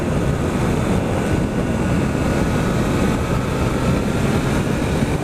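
A Triumph Trident 660 motorcycle engine accelerating on a test ride, a loud steady engine roar mixed with wind rush from start to finish.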